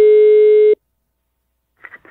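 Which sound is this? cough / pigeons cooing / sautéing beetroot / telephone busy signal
telephone busy signal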